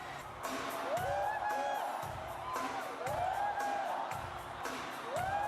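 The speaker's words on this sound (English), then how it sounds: "So the loud crowd was whooping" A concert crowd at Madison Square Garden whoops during a performance, with high rising cries repeating over pulsing live music.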